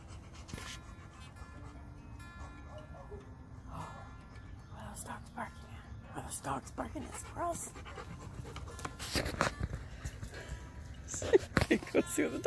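A dog pants heavily and rhythmically close by, the quick breaths growing louder toward the end with a few soft whimpers mixed in.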